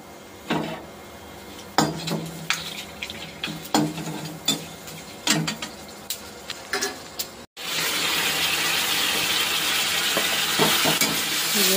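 Malabar spinach frying in a pan with bay leaf, dried chilli and five-spice seeds: scattered clinks of a spatula against the pot, then a loud, steady sizzle that swells and holds once the greens go in.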